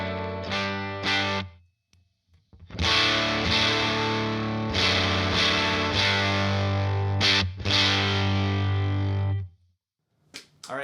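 An electric guitar through stacked boost and distortion pedals rings out with heavy, overdriven distortion, sustained chords held between short pauses and choppy strummed bursts, loud and thick.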